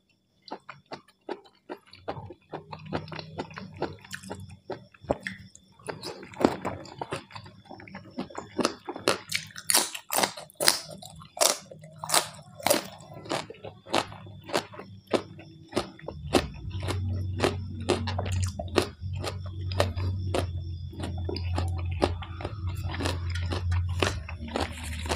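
Someone chews spicy chicken feet salad with pla ra fish sauce up close, giving off repeated crisp crunches and wet bites at a steady chewing rhythm, louder mouth sounds building toward the end.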